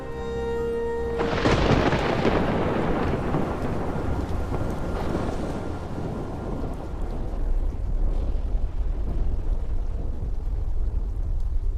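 A thunderstorm sound effect for a Bengali village horror story: a loud close thunder crack breaks out, then rolls on beneath dense, heavy rain for several seconds.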